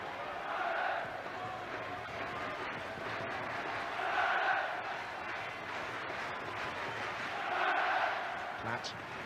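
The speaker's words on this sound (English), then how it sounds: "That's an ironic cheer from the home contingent of supporters." Ironic cheer from the home England supporters at a 1992 European Championship qualifier against Ireland, a crowd roar that swells and fades in repeated waves over a constant stadium murmur.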